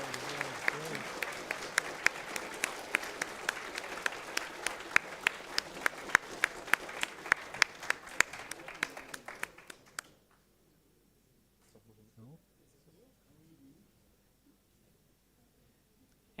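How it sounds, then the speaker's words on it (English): Audience applause at the closing ceremony of a regional programming contest in Ljubljana, a dense steady clapping crowd that stops abruptly around ten seconds, leaving near silence with faint room noise. "Big round of applause."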